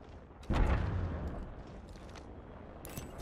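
Video game gunfire sounds as a sudden loud boom followed by a rumbling decay, then fainter scattered pops, with no voices.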